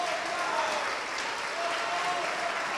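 A church congregation applauding during a sermon, dense continuous clapping from many hands filling the room at a steady level, with faint voices mixed beneath.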